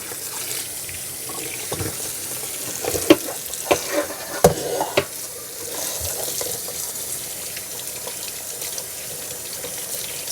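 Vegetables, including carrots, being rinsed under a running kitchen tap in a sink, a steady wash of water with a few louder splashes and knocks as produce is handled midway.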